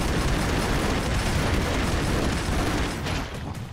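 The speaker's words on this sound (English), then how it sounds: "Because destructible environment, so why not grenade your way through them?" Grenade blasts in the side-scrolling action game Broforce come as a dense, continuous roar of explosions and crumbling debris, loud and close, easing off slightly near the end, with no talking.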